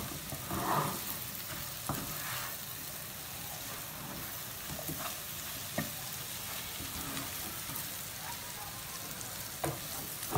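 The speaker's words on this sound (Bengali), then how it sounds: "আমার শুটকি ভাজি প্রায় হয়ে এসেছে" Dried loitta fish frying in a pan, giving a steady close sizzle and crackle throughout with a few soft stirring knocks.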